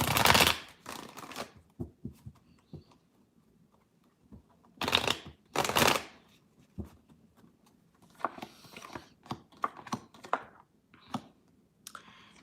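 Tarot cards being shuffled, close riffling bursts at the start and middle followed by lighter clicks and taps of cards being handled, with quiet pauses between.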